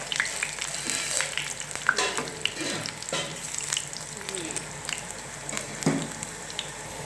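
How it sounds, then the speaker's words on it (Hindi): Potato chips frying in oil over low heat, with a continuous close sizzle broken by scraping stirs and occasional louder spatters from a wet spoon. "ये देखो, इसी तरह हमने फ्राई करने हैं।"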